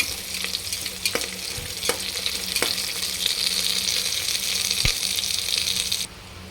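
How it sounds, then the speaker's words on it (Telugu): Onions and green chillies fry in a pan with a steady, close sizzle. Occasional sharp clicks of stirring cut through it, and the hiss drops slightly near the end. "చూడండి, బాగా ఆనియన్స్ పచ్చిమిర్చి వేగిపోయాయి."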